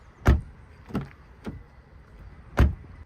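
Four solid car door thuds from a 2023 Cupra Leon ST 1.5 eTSI mild-hybrid estate, each a deep, close slam with a short ring, spaced unevenly with quiet gaps between them.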